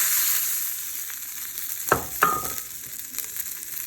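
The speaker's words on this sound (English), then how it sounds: "Pour a cup of water." A cup of water poured into a hot pan holding butter, chicken stock and mustard, bursting into a steady hiss with two sharp sizzling splashes close up, no talking.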